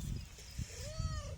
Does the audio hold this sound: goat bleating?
yes